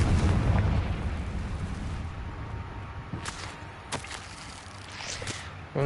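Confringo fire spell cast in Hogwarts Legacy, a loud rumbling blast that opens the clip, followed by several sharp cracking impacts and bursts fading into a lower roar.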